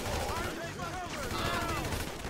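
Rapid gunfire from a GTA V casino heist mission, with several sharp shots and bursts crackling over dense in-game noise and effects for the whole stretch, fairly loud and continuous.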